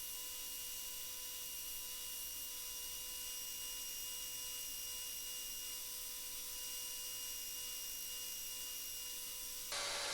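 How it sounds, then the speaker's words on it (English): A blacksmith-made sgian dubh knife being ground, a steady faint high-pitched whine with constant tonal hum from the grinder running continuously, fairly quiet and unbroken until a brief change at the very end. "Even more grinding."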